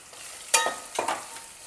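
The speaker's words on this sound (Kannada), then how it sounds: "ಈಗ ನಾನು ಕರಿಬೇವು ಸೇರಿಸ್ಕೊಂಡೇನೆ. ಸ್ವಲ್ಪ ಲೈಟಾಗಿ ಫ್ರೈ ಮಾಡ್ಕೊಂಡಾದ್ಮೇಲೆ ಒಂದೊಂದು ಕಾಯಿಪಲ್ಯ ಸೇರಿಸ್ಕೊಳ್ಳೋಣ" Curry leaves dropped into hot oil in a pan for vegetable upma, giving two short crackling sizzle bursts up close with light stirring, no voices.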